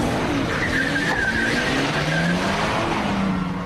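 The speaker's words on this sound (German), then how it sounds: "Der haut mit seinem Wagen ab." A getaway car tears off with loud, sustained tire screeching and skidding over a steady engine roar, with no talk.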